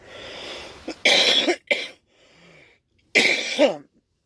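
Two harsh, close coughing bursts with a quiet gap between them, each rough and chesty, sounding loud and alone.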